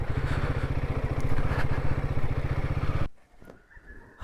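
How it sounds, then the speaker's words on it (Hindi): A motorcycle with a badly damaged clutch plate rides with a steady, loud pulsing engine drone on a long journey from Jumla to Surkhet, then cuts off abruptly to near quiet. "ज़बरदस्त प्रदर्शन करते हुए किरण जी ने काफ़ी खींच दी है बाइक आज"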